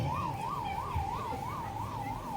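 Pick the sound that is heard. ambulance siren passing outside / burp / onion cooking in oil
ambulance siren passing outside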